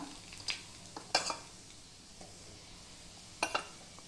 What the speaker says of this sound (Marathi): चांगला असा फ्राय करते